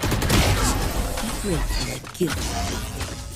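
Gunfire in the video game Valorant, a dense burst of shots early on over a steady game soundscape, with a voice speaking excitedly over the action.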